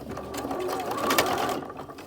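A sewing machine top-stitches a fabric seat belt cover, giving a soft, steady mechanical whirr and stitch patter at moderate volume.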